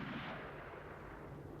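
Gunshots are fired at the Alcázar fortress during the Spanish Civil War, heard as a rough, sustained rumble of gunfire that stays steady and slightly distant, with no voices.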